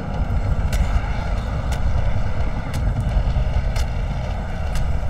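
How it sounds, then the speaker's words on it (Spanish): A helicopter arrives in the Call of Duty: Modern Warfare 3 story mode with a loud, steady engine and rotor roar that fills the scene continuously, punctuated by a few faint sharp clicks, and no talking. "Está el helicóptero que llegó."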